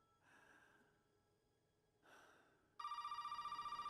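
A telephone in the Resident Evil 7 guest house rings abruptly near the end, a loud, steady electronic trill that starts after several seconds of quiet breathy ambience.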